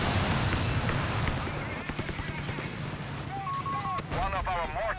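Battle sounds from a Company of Heroes 3 multiplayer match, Stuka dive bomb explosions and gunfire rumbling densely with sharp cracks, steady and loud, while game voices and radio chatter come through late.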